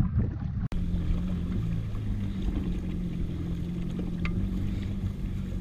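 Jet ski engine idling and bumped in and out of forward gear while turned into the wind on open water, a steady low drone with wind rush throughout and a brief dropout near the start.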